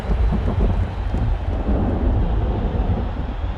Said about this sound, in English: It's an absolute torrent out here, and play has to be put on hold.